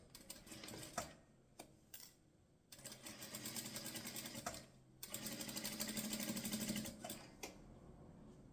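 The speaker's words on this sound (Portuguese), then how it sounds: "aqui essa faixinha. E faço a costurinha." A sewing machine stitches a fabric strip for a patchwork oven mitt, running in several whirring bursts of rapid needle rattle separated by brief stops, close and moderately loud.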